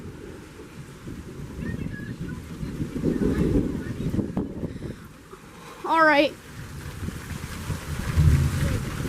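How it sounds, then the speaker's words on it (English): Gusty wind buffets an outdoor microphone during a severe thunderstorm with lightning and waves nearby, a steady rushing roar filling the clip while someone speaks briefly. "It's pretty windy."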